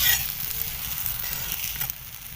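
An aloo egg roll paratha fries in ghee on a pan, giving a steady, close sizzle that holds evenly throughout with no voices.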